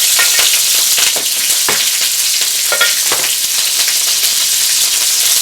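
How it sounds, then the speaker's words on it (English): Onions, garlic and mixed vegetables sauté in about two tablespoons of oil in a pan for chow mein, a steady bright sizzle running throughout with a few scraping stirs on top. "we're going to saute all our vegetables together with the garlic. In goes our onions."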